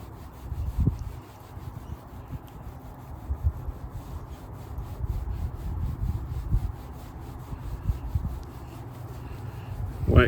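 Hand waxing the silver paint of a 2010 Ram truck, a steady soft rubbing and wiping of an applicator over the body panel, continuous and close with small swells in intensity throughout.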